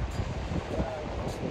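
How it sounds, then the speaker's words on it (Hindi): Strong wind buffeting the microphone outdoors on a trip to Haridwar, a constant loud roaring rush with no pauses. "एकदम हवा चल रही है भाई बहुत एकदम तेज।"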